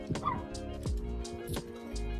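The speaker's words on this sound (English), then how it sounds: "my dog is barking at something" A dog barks in short, sharp yips and whining bow-wows close by, several bursts spread through the moment with steady background hum between them.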